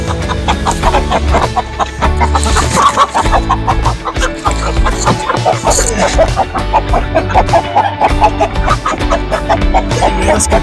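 Breeder chickens cluck and squawk nonstop in a loud, close, dense chorus for the whole stretch, with a brief louder flurry near the start.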